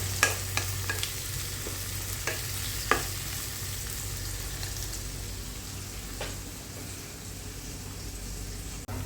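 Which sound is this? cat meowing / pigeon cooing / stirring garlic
stirring garlic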